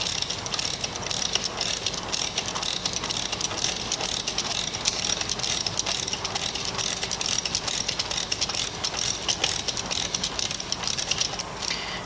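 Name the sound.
ratchet wrench driving wedge through splice closure end plate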